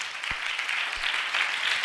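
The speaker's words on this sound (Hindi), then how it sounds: "छोटा सा ताली तो कम से कम बड़ा बना सकते ना" Brief scattered hand clapping from a church congregation during a Hindi Christian sermon, a light patter of claps under a steady hiss of room noise.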